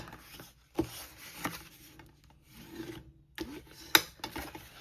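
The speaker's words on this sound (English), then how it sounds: "So we're gonna fold and burnish all of the score marks." Paper box being folded and burnished along its score marks, close rubbing and rasping strokes with a few sharp creasing snaps, irregular and alone without talk.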